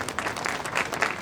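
A crowd claps steadily at a silver jubilee celebration, dense continuous applause filling the brief moment.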